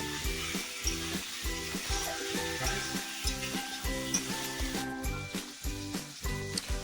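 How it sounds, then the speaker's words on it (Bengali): Chicken sautés in a hot pan with steady, loud sizzling, while repeated rhythmic scraping and stirring thumps run throughout, with no voices. "ভালো করে চিকেনটাকে কষাতে শুরু করলাম।"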